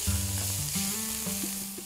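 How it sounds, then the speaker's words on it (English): Green and red peppers sizzle in hot olive oil in a pan, a steady close frying hiss over a low, humming drone that runs through the whole short stretch. "Let the green peppers and the red peppers cook off for 1 minute."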